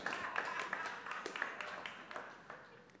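Church audience applauding after a humorous story in a sermon, a dense continuous patter of many hands at moderate distance, steady for about three seconds with no talk over it.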